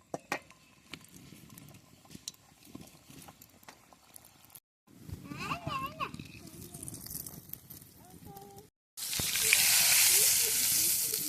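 A pea-filled kachori fries in hot oil with a low, crackling sizzle, broken by brief gaps and ending in a louder, brighter hiss; a voice talks over part of it.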